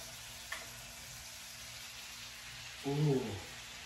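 Lemon garlic butter steak cooks in a pan with a soft, steady sizzle, quiet and close, broken by a small tap early and a brief voice near the end.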